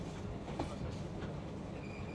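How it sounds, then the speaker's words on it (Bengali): A train rolls slowly over the Dilpasha bridge in Bangladesh during repair work, a steady low rumble with faint rhythmic clatter and a brief thin squeal, fairly distant. "এই জন্য ট্রেনটা খুব স্লো যাচ্ছে"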